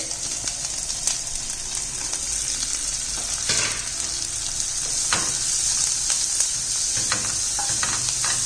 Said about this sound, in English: Add vegetables to it.